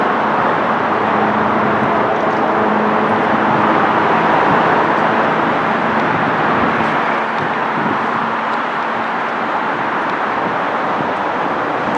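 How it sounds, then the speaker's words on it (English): Steady roadway traffic rumbles across the street from Universidad train station by the University of Puerto Rico front gate, a continuous near wash of passing cars without pause, no voices over it. "There's a lot of cars"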